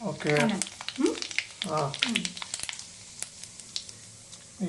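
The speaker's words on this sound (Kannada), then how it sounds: "ಈಗ ಎಣ್ಣೆ ಕಾದ. ಈಗ ಸಾಸಿವೆ ಜೀರಿಗೆ ಹಾಕ್ತೀನಿ." Mustard seeds and cumin dropped into hot oil in a kadai for mango chitranna: a crackling sizzle with small pops, heard close, partly under a person talking at the start, then continuing alone.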